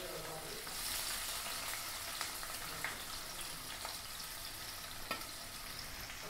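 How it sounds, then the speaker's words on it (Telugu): Onions sizzle and crackle steadily in a hot pan as chicken curry gets started, a dense broadband frying hiss with a few sharper pops, no talking over it. "ఉల్లిగడ్డలు వేసేస్తున్నాను నేను."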